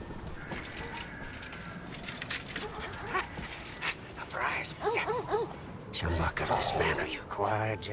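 A dog in the Mad Max video game whimpers and yips in short bursts, panting and whining among busy game sounds, with a voice talking at points.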